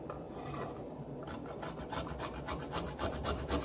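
Fresh turmeric root shredded against a small hand planer, a rapid series of close, rhythmic rasping scrapes that grow more distinct and regular, with no talk.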